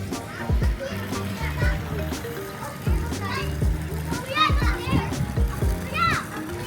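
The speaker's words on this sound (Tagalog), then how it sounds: "Alingaw na gini sila ligo dire oh. Mga bata." Children splash and play in a swimming pool at a summer viewpoint in Cagayan de Oro, with excited kids' voices and shouts over intermittent water splashes throughout; someone talks nearby.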